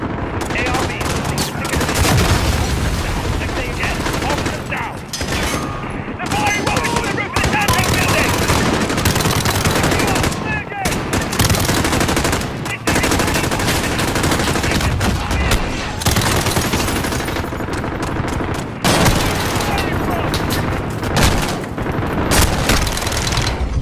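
Sustained automatic gunfire and bursts of shots in a Modern Warfare firefight, loud and dense almost throughout, with brief pauses and occasional booms, with voices mixed in.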